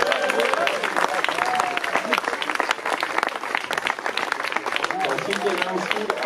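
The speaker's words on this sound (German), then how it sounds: "Und ein bisschen Applaus wäre natürlich auch schön." Lively applause from an outdoor village audience watching a Transylvanian folk dance group in Hägelberg, Steinen, with crisp rhythmic claps continuing throughout and voices talking over it.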